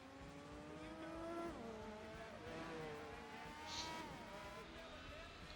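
Race car engine in Gran Turismo 4 on the Nürburgring, a loud sustained whine rising and falling through gear changes and acceleration, with brief tire squeal.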